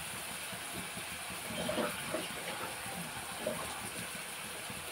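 Water is poured into a simmering capsicum and egg curry, making a faint, low gushing splash that runs steadily for several seconds in a quiet home kitchen.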